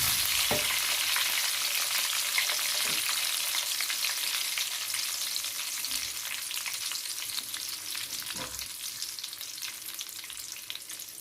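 Red chillies fry in oil in a pan along with curry leaves for a roasted maash and chana dal: a steady, close sizzle with a few soft stirring knocks, no talking.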